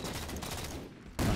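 Rapid automatic gunfire rattles through a Halo 4 Slayer multiplayer match, a quick string of sharp bursts that thins out into a brief lull before a loud, dense blast of sound hits at the end.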